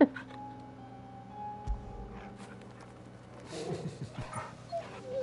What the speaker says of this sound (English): Let's pet the puppy for Dickie